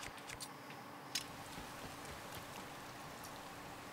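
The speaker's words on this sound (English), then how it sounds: "I can't, because it's raining." Soft, steady rainfall in The Legend of Zelda: Tears of the Kingdom, a faint continuous patter with a few sharper drop ticks scattered throughout.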